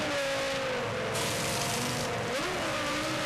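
A 2001 Formula 1 car revs hard in the pit lane during its pit stop at the Brazilian Grand Prix, a loud, steady high-pitched engine whine with brief blips in pitch.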